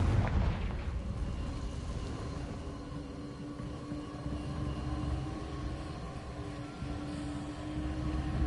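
A Confringo blasting spell explodes in a video game, giving a deep, rumbling boom that hits hard at the start, then settles into a sustained low roar with a steady hum underneath, with no voices.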